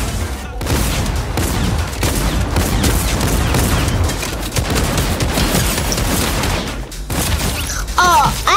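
Rapid gold tactical shotgun blasts and explosions in a Fortnite match, loud and dense through most of the stretch, with faint voices now and then.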